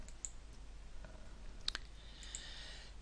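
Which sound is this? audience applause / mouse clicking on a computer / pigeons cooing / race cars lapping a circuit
mouse clicking on a computer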